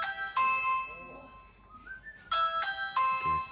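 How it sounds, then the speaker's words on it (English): A Ring video doorbell chime sounds when its button is pressed, with bright, bell-like electronic tones ringing out in a few bursts at moderate volume. "If I ring the doorbell, it'll tell me someone is at your front door."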